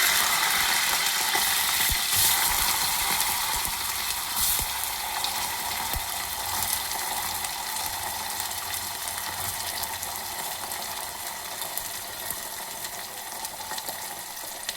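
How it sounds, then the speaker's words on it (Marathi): Fresh green dudh mogra (kashi val) beans frying in hot oil, a dense, even crackling sizzle that holds steady throughout and fades slightly toward the end, with no talking. "तेल तापलेलं आहे, आता हे दाणे तळून घ्यायचे आहेत।"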